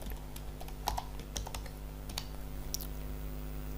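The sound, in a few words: typing on a computer keyboard to fill an online form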